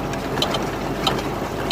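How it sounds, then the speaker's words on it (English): A tractor idles with a steady low rumble while the hay baler behind it ties a bale, adding a few sharp mechanical clicks and clunks over the engine drone. "I just have the tractor idling here, but I'm tying the bale."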